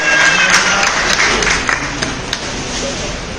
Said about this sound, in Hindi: इनका सभी का जोरदार तालियों के साथ हम सब स्वागत करें।